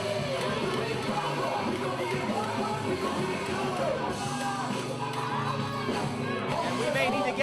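A packed wrestling arena crowd at an NWA North American Championship match murmurs and shouts in a steady, dense roar, with scattered yells and cheers rising throughout.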